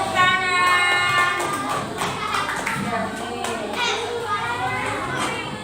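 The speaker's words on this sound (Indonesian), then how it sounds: "Oke, beri tepuk tangan." A classroom of children clapping for a classmate's presentation, scattered handclaps mixed with lively children's chatter and voices throughout.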